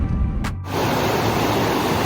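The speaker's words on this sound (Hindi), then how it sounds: "यही है वो नदी भाई, कितनी प्यारी लग रही है ना।" A river runs near Turtuk village in the Nubra valley, a loud, steady broadband rush of flowing water close by, briefly dipping before resuming its constant roar.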